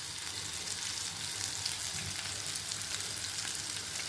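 Masala-coated fish fries on a slow flame, producing a gentle, even sizzle with fine crackles and light pops, close and unbroken, with no voices.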